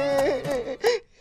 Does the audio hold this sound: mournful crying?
yes